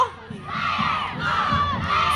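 Youth League cheerleaders cheer and shout together in a loud, continuous crowd roar at a homecoming parade, the voices rising and falling in bursts over a steady low rumble.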